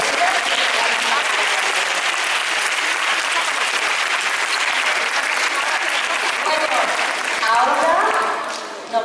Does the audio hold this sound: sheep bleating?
no